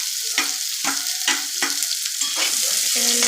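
Onions, chillies and garlic fry in a hot pan, a steady close sizzle broken by repeated scraping stirs in a quick rhythm, with no talking.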